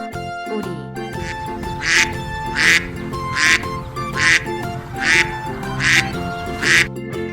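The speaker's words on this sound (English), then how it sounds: "Duck." A duck quacks over and over in an even rhythm, about seven loud, close, raspy quacks sounding over light background music.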